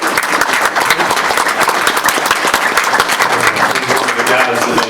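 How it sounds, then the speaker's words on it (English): Loud, close applause at a town council meeting in honor of a staff member who passed an exam, a steady crowd of sharp claps with some voices mixed in. "so that deserves a round of applause"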